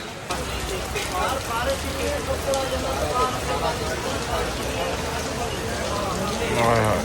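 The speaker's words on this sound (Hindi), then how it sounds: "ये देखो फुल बारिश हो रही है तेज।" Heavy rain pours steadily over an outdoor market, a dense continuous hiss and patter that fills the whole clip at constant loudness.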